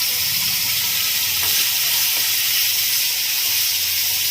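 Asafoetida, curry leaves, chili, chopped tomato and onion hit hot oil in a tempering for idli sambar, giving a loud, steady, close sizzle that runs unbroken throughout.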